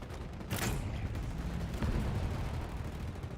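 A grenade explosion in Halo Infinite gives a sudden loud burst followed by rumbling, with another softer blast shortly after, all within dense continuous battle noise.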